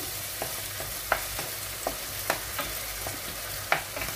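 Pepper, onion and fat fry in a pan for a msemen filling, giving a steady close sizzle broken by light scraping and tapping as the mixture is stirred.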